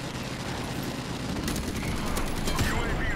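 A steady, roaring rumble of explosions from an airstrike in Call of Duty 4: Modern Warfare Remastered, with sharper cracks of gunfire near the end and faint voices underneath.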